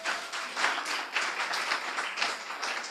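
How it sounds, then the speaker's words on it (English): A crowd of women at an awards gala dinner in Ghana applauding together, a dense, sustained burst of clapping that stays even and full throughout. "can you give yourselves a good clap"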